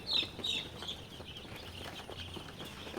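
Tiger-breed chicks being vaccinated give a few faint, high peeping chirps near the start over low background noise, with no talk.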